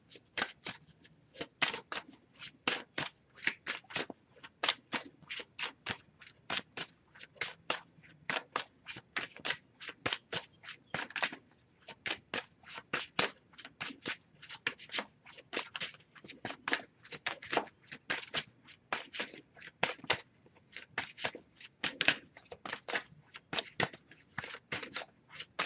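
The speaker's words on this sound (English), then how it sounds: "Just going to pull a single card from here." Oracle cards from a Messages of Love deck are shuffled in a steady run of crisp, rapid riffling flicks for over twenty seconds, close and fairly quiet, with no voices.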